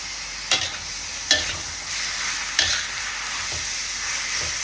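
Vegetables stir-fried in a pan with a steady sizzle, while a spatula scrapes and tosses them in a few sharp strokes spaced about a second apart. There is no talking.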